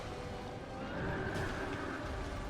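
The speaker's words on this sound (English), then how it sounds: "don't forget this is a dark magic horse." A dark magic horse in the video game Dark Souls II lets out a loud, drawn-out neigh, a single shrill whinny that rings over a dense, noisy game soundscape.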